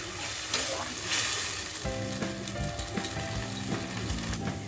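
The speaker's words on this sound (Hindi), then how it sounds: "ये टोमेटो प्यूरी को भी अच्छी तरह भूनना है।" Tomato purée frying and being stirred in a pan for Manchurian gravy, a steady close sizzle with scraping stir strokes that turn rhythmic in the second half, no talking.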